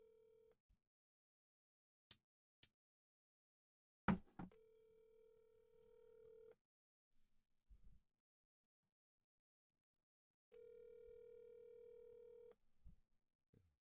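A telephone handset steadily dials out, with a few button clicks, a long steady tone, quiet gaps, then a second steady tone and more handling clicks.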